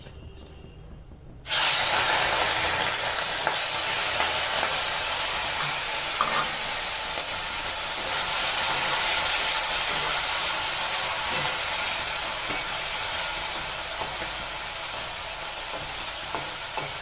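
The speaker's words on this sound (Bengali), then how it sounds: "এখন আমি মাছগুলো দিয়ে দেবো।" Shrimp or fish dropped into hot oil burst into a loud, steady hiss of frying that starts abruptly after a quiet moment and continues unbroken, close up with no talk.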